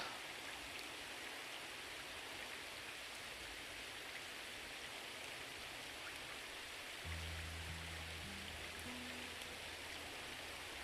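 Steady, hissing rainfall in the game Red Dead Online fills the scene evenly throughout, with a low hum joining partway through.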